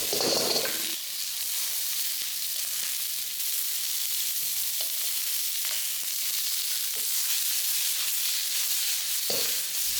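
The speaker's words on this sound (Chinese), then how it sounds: "姜片爆香后，把虾放进来煎一煎。" Shrimp frying with ginger slices in a hot pan for seafood glass noodle soup, giving a steady broadband sizzle for the full stretch, with a few faint clinks and stirs and no talking.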